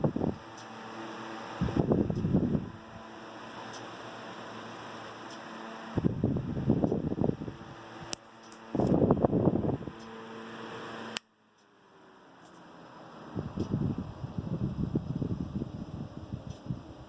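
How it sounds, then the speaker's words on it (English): A restored vintage Westinghouse LivelyAire 10LA oscillating desk fan runs with a soft steady whir. Bursts of louder airy rushing come and go as it sweeps past, with a few faint clicks, and no one talks. "Fairly smooth fan, and it'll probably get smoother as it works in"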